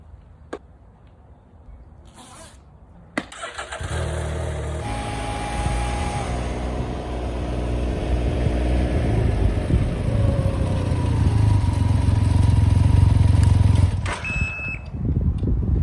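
A Can-Am Ryker three-wheeled motorcycle cranks and starts, then settles into a steady engine drone that builds as it rides off, with a beep near the end; close and fairly loud throughout.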